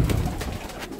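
Pigeons cooing close by as a flock gathers for feeding, a soft steady murmur of low throaty coos with no talk.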